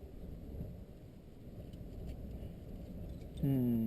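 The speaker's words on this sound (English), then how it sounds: "And there's actually a bigger squall coming in." A squall sweeps in over the Donegal coast, wind and rain roaring in a broad, rumbling wash, with a short vocal sound breaking in right at the end.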